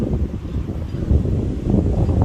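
Low, rumbling wind buffets the microphone continuously, with no voices heard.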